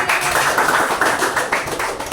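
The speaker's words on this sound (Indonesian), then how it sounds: "tepuk tangan teman" Students applaud together in a classroom, a dense, continuous patter of many overlapping hand claps held steady at close range for a couple of seconds with no voices.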